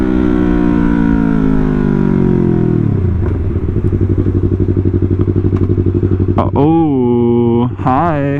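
A Yamaha R3 motorcycle is ridden with a loud, buzzing engine note that drops from a high rev into a steady, throbbing idle-like pulse, then rises again in two sharp revving bursts near the end.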